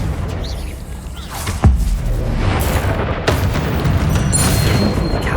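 A fire spell detonates in the Hogwarts Legacy video game, giving a loud, booming blast followed by a sustained rumbling roar and another sharp burst, with no talking.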